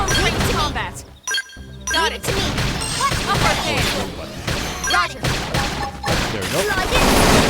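Gunfire and impact blasts from a Xenoblade Chronicles X battle, dense and loud, with rapid shots, booms and metallic clinks overlapping continuously, along with character voices shouting and someone speaking briefly.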